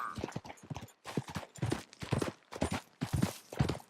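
Horse hooves beating in quick repeated bursts from Red Dead Redemption 2, close and fairly loud, with short gaps between strides and no talking.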